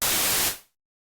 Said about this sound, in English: White noise is there is no fundamental. There's no harmonics. It's every harmonic.